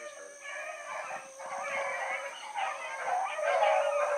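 A pack of deer hunting dogs bays and howls continuously while running, the overlapping voices rising and falling at moderate distance with no talk.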